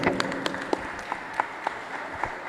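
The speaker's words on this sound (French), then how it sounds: "On applaudit pour ce joueur." A school quiz-show audience in a quarterfinal match claps for a player, a short burst of scattered hand claps with individual sharp slaps standing out, moderately close.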